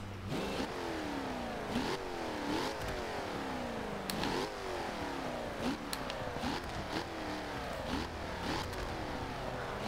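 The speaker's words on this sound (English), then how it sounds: "Very nice sounding exhaust." A supercharged V8 engine of a 2015 Jaguar F-Type R Coupe in a video game revs repeatedly, rising and dropping in a cycle of gear shifts, with a throaty exhaust rumble throughout.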